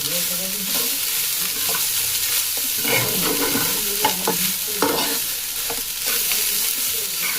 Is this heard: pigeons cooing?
no